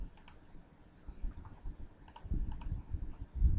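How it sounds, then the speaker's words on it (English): A graphing calculator's keys are pressed in short clicks, a few isolated taps and pairs at an uneven pace, quiet and close over faint background rumble. "And I'm typing in the data individually."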